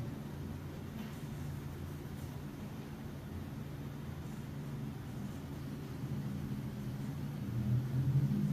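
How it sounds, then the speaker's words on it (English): A car drives past outside the historic Longwood Village Inn in Longwood, Florida, a faint, steady low rumble that swells slightly louder toward the end. "Well, that was a car."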